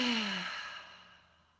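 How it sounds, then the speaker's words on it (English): One deep breath is drawn and let out as a soft sigh, close and quiet, starting strong and fading over about a second and a half. "Take a deep breath."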